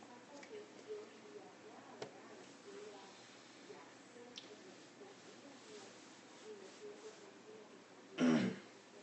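A single throat-clearing cough near the end, loud and close, after a long stretch of quiet room noise with faint clicks.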